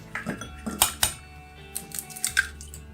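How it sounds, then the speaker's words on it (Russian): Three eggs are cracked one after another against the rim of a bowl, giving sharp close taps and clinks with small wet drops between them, loud and alone in a quiet kitchen. "Нам понадобится 3 яйца."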